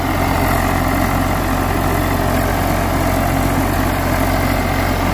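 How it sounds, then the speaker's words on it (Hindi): A tractor engine runs close by in a loud, unbroken low rumble, holding a constant throttle with no pauses and no voices over it. "तो भाई आवाज सुन सको ट्रैक्टर की है बेटे"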